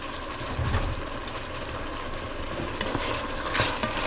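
Garlic and scallions sizzle in a saucy braised pork pan, with a steady moderate frying crackle, soft stirring and a few louder spatula scrapes near the end.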